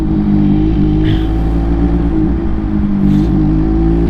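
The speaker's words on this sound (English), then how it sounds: "Just feathering that clutch and throttle up the hill." An MV Agusta F3 motorcycle pulls uphill with clutch feathered and throttle held, a loud, steady engine drone with slight rises and dips, up close with no talk.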